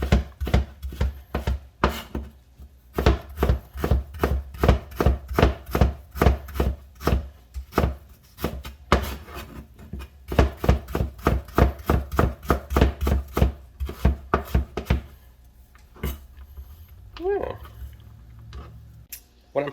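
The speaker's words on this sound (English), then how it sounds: "just making like matchsticks, julienne cut" A knife julienne-cuts vegetables into matchsticks on a cutting board with rapid, rhythmic, close chopping taps that run for about fifteen seconds, then come a few softer scattered knocks.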